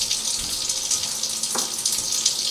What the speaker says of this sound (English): I'm just running hot water over them to warm those up